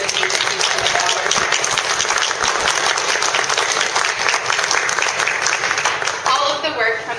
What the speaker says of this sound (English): Please join me in a round of applause for the dedication and service of those agencies